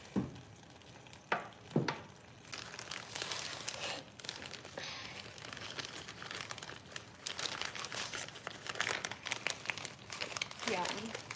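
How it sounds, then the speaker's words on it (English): Soft crackling and sizzling from a pan, steady and fairly quiet, with a few sharp clinks near the start. "You can kind of hear it, it's sizzling."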